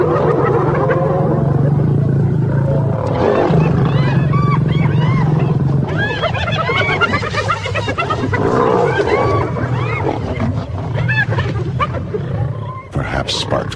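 Lions and hyenas clash in an African wild scene, with a dense, continuous chorus of roars, growls and frantic whooping calls close up and loud throughout, and a few sharp bursts near the end.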